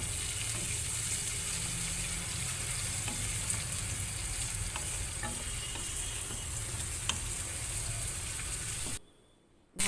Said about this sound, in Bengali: এরপর পেঁয়াজ দিলাম, দিয়ে ভালো করে ভেজে নেব